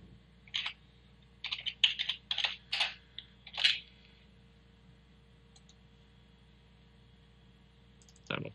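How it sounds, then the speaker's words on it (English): A computer mouse clicks repeatedly in quick pairs, double-clicks spread over about three seconds with one more pair at the end, crisp and close against a low steady hum. "so just double click"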